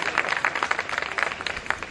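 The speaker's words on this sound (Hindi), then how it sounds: "ये जोरदार तालियां प्रमोद जी के लिए आप बजाएं" An audience at a poetry gathering in Kanpur applauds a guest named Pramod Tiwari, a steady crowd of close hand claps with sharp individual slaps, continuous throughout.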